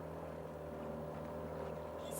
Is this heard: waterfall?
no